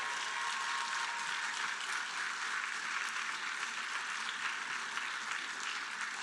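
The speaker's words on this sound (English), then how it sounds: "Give a big applause" An audience gives steady, sustained applause after a dance drama performance in Kumbakonam, a dense even wash of many hands clapping throughout, fairly distant and soft, with no talk.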